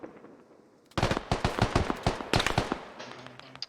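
Rapid burst of video game gunfire, a dense run of sharp, loud, closely spaced shots after a short quiet start, trailing into a faint tone at the end.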